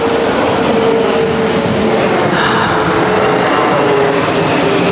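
An airplane flies overhead outdoors, a loud steady broadband roar with a faint tonal hum that holds throughout without pause, and no speech.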